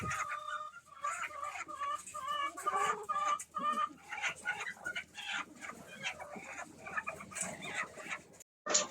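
Hens of a laying breed cluck and chatter steadily at close range, many overlapping calls with a few louder squawks, while a voice speaks faintly among them.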